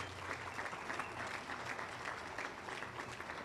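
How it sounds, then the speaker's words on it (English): Round of applause at a Hall of Fame banquet, with a steady wash of many hands clapping at a moderate distance and no break throughout. "let's give Scott a round of applause"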